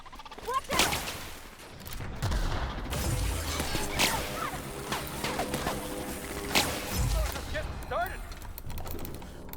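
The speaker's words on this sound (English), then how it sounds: "weird shock rifle thing I have makes quick work of those mechanical things" Shock rifle blasts in The Outer Worlds against mechanical enemies, several sharp zapping shots with crashes and whooshes scattered through game noise while someone talks.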